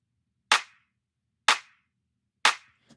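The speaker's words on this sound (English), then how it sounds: "So we can check out the clap." A crisp, dry clap sample from a deep house track, struck three times at even one-second intervals with quick decay and silence between hits, plus a faint small tick at the end.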